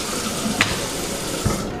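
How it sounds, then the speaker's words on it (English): A kitchen sink tap runs steadily while raw chicken is rinsed under it, close and fairly loud, with two brief splashy bumps as the meat is moved and no talking. "I'm gonna wash the chicken right now. Let's put it all out in the sink."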